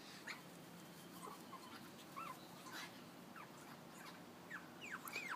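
Pomeranian puppies give thin, high whimpers and yips scattered through a steady indoor background, faint and intermittent, with no clear talk over them.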